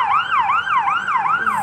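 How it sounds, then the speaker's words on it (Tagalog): Ambulance siren wailing in traffic on EDSA, a loud, near, rapid rising-and-falling electronic yelp repeating about four times with faint road noise beneath. "ambulansya."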